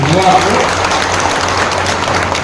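An audience at a public gathering claps steadily, a dense, even wash of applause sustained at close range, with speech mingled in.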